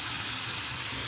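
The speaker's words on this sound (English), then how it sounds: "And then I shall quickly fry them" Flattened burger patties fry in a hot pan, giving a steady, loud, close-up hiss and sizzle for a brief moment with no voices.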